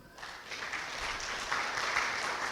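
A crowd at a wedding ceremony breaks into sustained applause that swells after a brief moment and holds as a dense, even clatter of many hands clapping.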